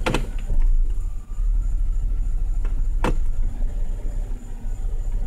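A Buick car engine with a replaced fuel pressure regulator idles smoothly at close range, with a steady low rumble throughout and a couple of brief sharp clicks.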